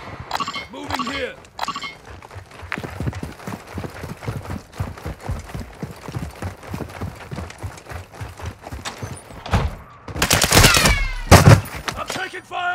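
Weapons fire in Call of Duty DMZ crackles as rapid, uneven bursts of shots under ongoing voice chat, building to a denser, louder volley near the end.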